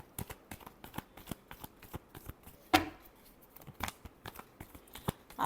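Tarot cards are shuffled in quick, crisp riffles and flicks, one sharp slap standing out, close and fairly quiet with no voice over it.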